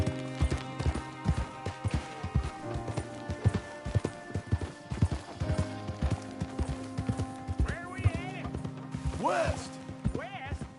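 Steady clip-clop of horse hooves trotting at a walking pace in the video game Red Dead Redemption 2, while someone speaks over it and a horse briefly whinnies near the end.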